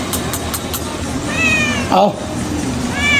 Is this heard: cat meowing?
yes